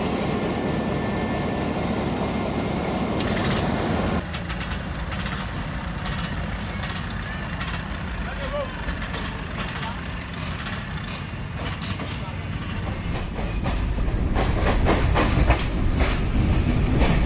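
A train hauled by a 1954 EMD G8 locomotive rumbles and clacks along the rails leaving Guantanamo station, the rhythmic clatter growing louder and busier toward the end as it picks up.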